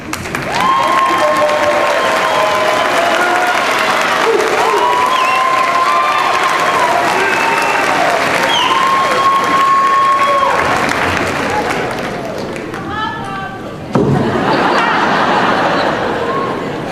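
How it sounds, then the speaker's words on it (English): Graduates applauding their families at a college commencement, sustained loud clapping and cheering from a large crowd with chatter and laughter mixed in. "graduates, please stand, point to your family and friends, and recognize them with a round of applause"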